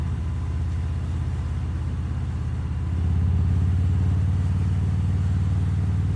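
A 2018 Harley-Davidson Fat Bob motorcycle engine idling with a low, throbbing exhaust rumble that steps up louder and deeper partway through, close to the microphone.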